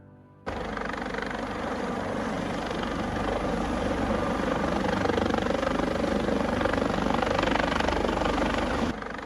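Steady, loud video-game helicopter rotor drone from Second Life, a Coast Guard rescue chopper hovering in place, a continuous broadband roar with low thumping throughout.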